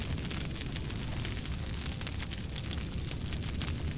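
Explosions tear through a Conan Exiles raid as one unbroken, dense roar of blasts and crackling debris, steady and loud throughout with no pauses.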